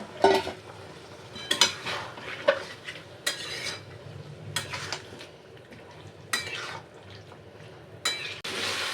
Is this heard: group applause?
no